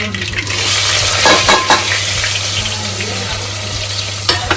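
Mustard seeds, dried red chillies, star anise and bay leaf temper in hot oil for Kathiyawadi undhiyu, a loud close crackling sizzle throughout with a few sharp pops and metallic clinks of a spoon against the pan.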